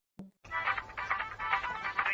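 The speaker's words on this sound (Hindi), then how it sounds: "अरे जे कोनो का फोन आएगो?" A phone ringtone rings once as a short repeating electronic warble, fairly close and clear, after a brief tap at the start.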